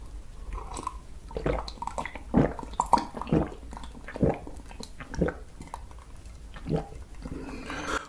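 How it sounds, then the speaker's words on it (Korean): Close, quiet drinking sounds during a spicy mushroom mukbang, with gulps, wet mouth noises and soft swallows in an uneven rhythm. "잠깐 마시고."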